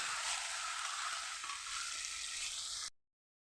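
Marinated chicken meat sizzles hard in a pan of fried spices, a loud, steady hiss of frying that runs close and unbroken for about three seconds before cutting off to silence.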